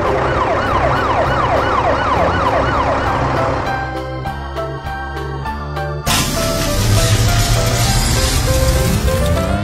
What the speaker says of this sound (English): The police cruiser has lights and sirens.